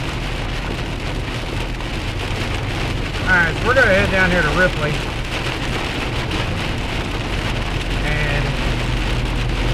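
Heavy rain from a thunderstorm drums steadily on a vehicle and the road near Ripley, with a low constant rumble beneath, while someone speaks briefly over the downpour.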